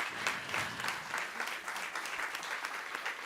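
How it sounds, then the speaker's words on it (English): Steady, faint applause from the audience at a professional health insurance meeting, continuous and distant, thanking the first presenter. "I think he deserves a very big applause"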